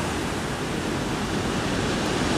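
Ocean surf on a Tenerife beach, a steady, loud broadband wash of waves close by with no break, wind noise mixed into the roar.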